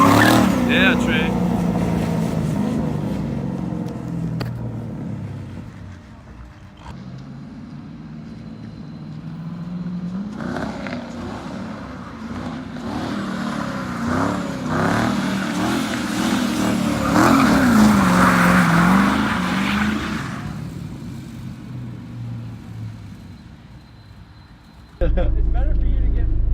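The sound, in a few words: 2500 turbo diesel pickup engine revving while drifting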